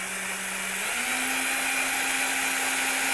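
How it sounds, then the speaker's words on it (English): A power drill spins steadily while boring a hole in wood during an easel-building job, a loud, close whine that shifts slightly in pitch partway through and then holds an even tone, with no talking. "you want to pull it up with the drill running, which pulls the shavings out of the hole"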